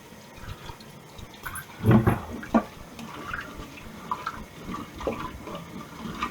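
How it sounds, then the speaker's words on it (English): Running cold water splashes while food is washed for a mushroom risotto, an uneven trickle with louder bursts and clatter near the start, no talking. "Not ideal washing in cold water"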